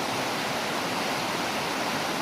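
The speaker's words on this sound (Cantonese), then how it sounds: "形成咗瀑布。" Bow Glacier Falls, fed by glacier snowmelt, producing a steady dense roar of falling water, loud and unbroken throughout with no other sounds.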